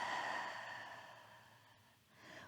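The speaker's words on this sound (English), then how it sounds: "Maybe an open mouth exhale." A soft, breathy open-mouth exhale during a gentle yoga session for the lower back, fading slowly over a couple of seconds with a slight rise of breath at the end; quiet and close, with no talking.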